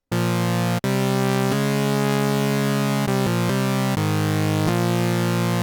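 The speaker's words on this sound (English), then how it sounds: "It's like just you doing fifth chords up and down" Two bright, buzzy sawtooth synth oscillators tuned a fifth apart move through a series of sustained chord changes, each held note rich in harmonics, with a brief dropout near the start.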